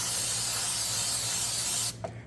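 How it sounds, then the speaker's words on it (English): Carb and throttle body cleaner sprays steadily onto a rag in a loud, close, continuous hiss lasting about two seconds, then stops abruptly. "I'm going to spray this rag real good"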